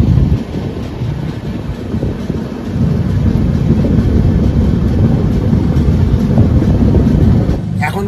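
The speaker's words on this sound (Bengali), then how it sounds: "আমাদের এই গাড়ি, এই যে ট্রেন এগিয়ে চলেছে ধীরে ধীরে" The 18005 Howrah–Jagdalpur Samaleswari Express rolls slowly along, giving a loud, dense, continuous rumble of wheels and carriages heard from on board, with a faint clatter near the end.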